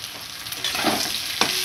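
Chopped onion tipped into a pan of potatoes frying in oil with salt and turmeric, then stirred: a short burst of steady sizzle with a couple of sharp scraping stirs, close and alone.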